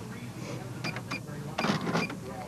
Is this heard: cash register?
yes